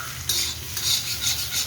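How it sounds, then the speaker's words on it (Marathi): Eggplant bharit stirred and sautéed in a pan, with a spoon scraping and stirring in short repeated strokes over a steady close sizzle, loud and without any talking. "आणि ते असं चांगलं परतून घ्यायचं."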